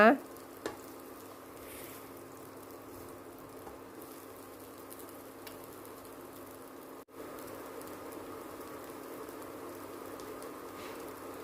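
Potato pancake batter fries in a pan with a continuous, even sizzle that holds at moderate level, close by, with a couple of faint clicks and no voices.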